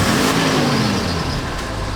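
Jeep YJ engine revving loudly at close range through a new OEM-style muffler, a dense steady roar that rises and eases over two seconds.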